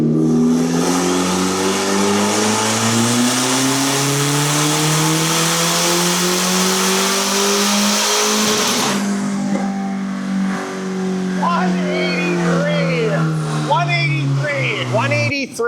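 A turbocharged Toyota Camry, boosted from 20 PSI, pulls hard in third gear with a loud engine note climbing steadily in pitch for about nine seconds, then drops off as the revs fall and voices talk over the idle.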